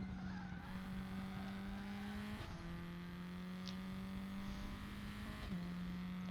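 An F4 Tatuus sim racing car at the Indianapolis Grand Prix circuit in a video game holds a steady engine drone, with tire skid noise and brief gear shifts as the rear end loses grip, at low volume.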